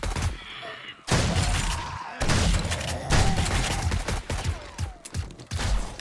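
Rapid bursts of automatic gunfire in the survival game 7 Days to Die during a day 70 horde night with the Rebirth mod, loud and close, in several dense volleys separated by short pauses.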